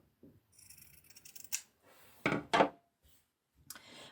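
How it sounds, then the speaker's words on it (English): Scissors snip through spare fabric while a diagonally marked corner is trimmed away, a few close, crisp cuts in uneven bursts with quiet pauses between. "that's the spare fabric that we're going to cut off"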